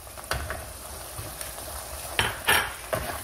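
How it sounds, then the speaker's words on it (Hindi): Beef stew cooking over a low flame in a pot, with soft sizzling under occasional sharp clinks and scrapes of a spoon or utensil against the pan, several louder knocks near the end. "एक से दो मिनट मैं ऐसे ही पकाऊंगी इसको लो फ्लेम पे"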